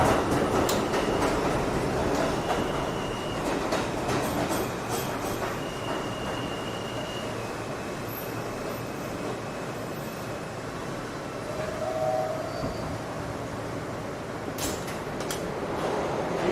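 A New York City subway E train bound for World Trade Center rolls along, a loud steady rumble with rhythmic wheel clatter and occasional brief metallic squeals, heard from inside the car.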